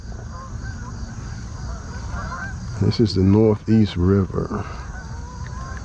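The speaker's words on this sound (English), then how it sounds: "They ain't duck, they geese." Loud nasal honks from several Canada geese in a quick cluster on the Upper Bay of the Northeast River, over steady background rumble, with someone speaking briefly before the calls.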